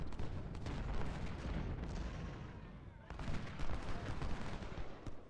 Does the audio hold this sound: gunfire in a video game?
yes